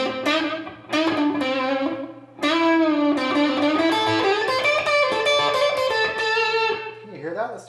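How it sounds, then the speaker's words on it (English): Electric guitar played through the neck pickup of a Seymour Duncan Pearly Gates humbucker, with tape delay and hall reverb, sustained chords and melodic notes ringing out with lush repeats and a long decaying tail, loud and up close. "We got a little tape delay and hall reverb."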